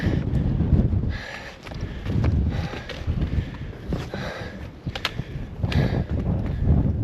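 Cold wind gusts steadily across open Utah desert, a broad rough rush buffeting the microphone in repeated surges with no voices.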